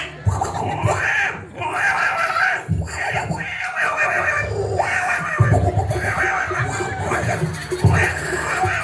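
A performer at a Balinese calonarang comedy show imitates a horse, giving loud, shrill neigh-like cries over a noisy crowd with voices around.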